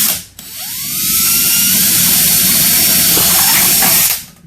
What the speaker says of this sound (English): I'm going to drill a hole straight through